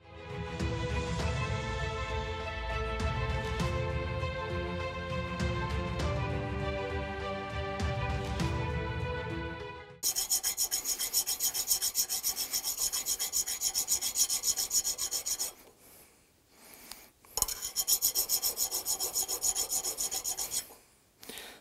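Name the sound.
cleaning a car starter motor part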